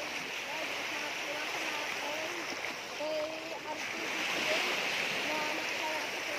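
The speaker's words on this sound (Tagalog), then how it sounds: "lakas ng alon, no?" Steady rushing and splashing of water, like waves slapping around a small boat, with people talking over it throughout.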